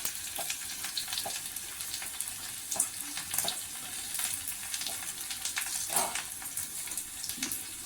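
Steady crackling sizzle of shallots frying in hot oil, with occasional sharper pops and stirring scrapes, fairly close and continuous.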